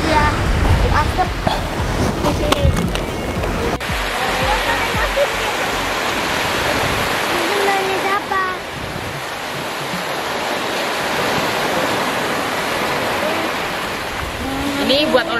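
Ocean surf washes continuously at Manggar Beach, a broad, steady roar of waves with wind, and voices briefly heard at the start.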